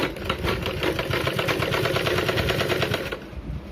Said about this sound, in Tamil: அதை வந்து ஒரு மடிப்பு மடித்து ஒரு தையல் போட்டுக்கோங்க